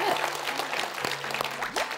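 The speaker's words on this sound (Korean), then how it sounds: "예, 박수." Audience applause at a Buddhist dharma talk, a short burst of scattered clapping from a crowd in a hall, steady for about two seconds with faint voices underneath.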